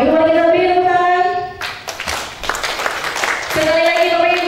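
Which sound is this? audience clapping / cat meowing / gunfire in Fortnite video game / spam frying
audience clapping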